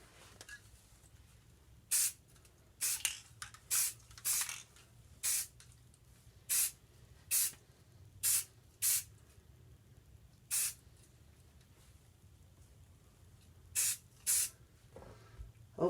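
Short bursts of an aerosol spray paint can hiss through stencils onto a Necromunda Warhammer gaming table, about a dozen close, sharp sprays of one or two seconds each, separated by brief quiet pauses over a low background hum.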